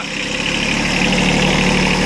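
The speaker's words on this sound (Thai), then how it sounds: "เครื่องยนต์สามสูบนะครับเครื่องยนต์สามสูบ" A Kubota B1-14 compact four-wheel-drive tractor with a 14-horsepower three-cylinder diesel engine and rotary tiller runs at a steady idle, its low even rumble loud and close throughout with no talk.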